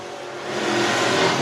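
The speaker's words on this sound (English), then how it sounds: "Extreme front wheel drive, bring them to the line and get your hot laps." Front-wheel-drive race cars revving during hot laps at Antioch Speedway, a loud, close engine roar that rises in pitch and volume and then holds, with no speech.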